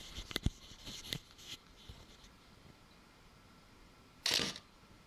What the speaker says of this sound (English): I put this camera in manual mode, so I'm sure it will click